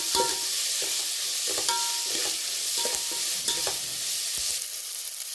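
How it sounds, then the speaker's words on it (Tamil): Tomatoes sautéing for a country chicken curry sizzle steadily and loudly while a spoon scrapes the pan in repeated stirring strokes, close up and with no talk. "நல்லா வதக்கிக்கலாம்."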